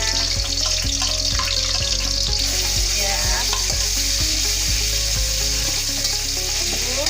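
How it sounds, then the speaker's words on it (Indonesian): Spices sauté in hot oil in a wok for Betawi-style pindang ikan, giving a loud, steady sizzle with a regular scraping knock of the spatula roughly every half second. "Kita tumis dulu Bun, sampai wangi"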